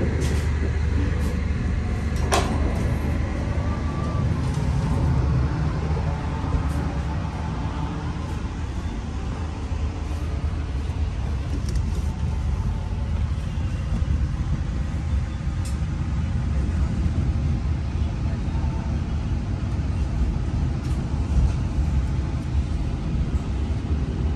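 Economy-class passenger train pulling out of Kiaracondong station in Bandung, heard from inside as a steady, loud rumble of wheels and carriage noise with no talking.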